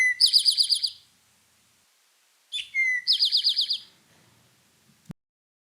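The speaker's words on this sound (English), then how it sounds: "They have a really interesting song that to many sounds like they're saying" A large sparrow sings its 'drink your tea' song: two short phrases separated by a pause, each a rapid series of bright, high notes, clear and fairly close, with a faint click at the end.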